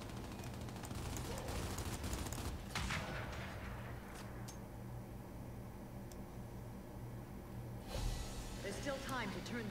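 Gunfire in Gears 5, loud sustained bursts under constant game noise, with a short pause and then another sharp burst; a voice speaks over it.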